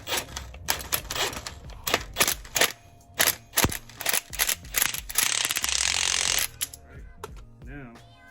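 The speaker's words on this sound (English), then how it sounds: "And as I use this impact gun, you watch it go inside." Impact gun driving extended wheel studs into the front hub of an Acura RL (KB1), heard as a series of loud, rapid hammering bursts and then a sustained rattling run up close, with quieter clanks at the end.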